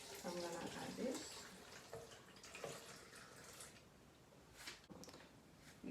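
Water poured into a starfruit and melon juice, a soft splashing trickle that swells and fades across several seconds, with quiet talking around it.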